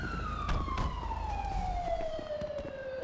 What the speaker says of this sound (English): Light sirens.